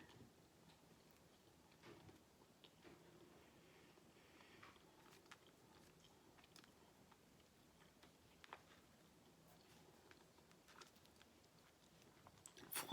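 Banana snack topped with melted peanut butter being eaten, with quiet, irregular chewing and soft mouth clicks close to the mic and a louder bite near the end.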